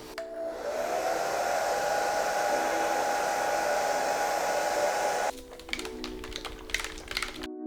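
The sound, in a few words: hair blow dryer drying leather steering wheel coating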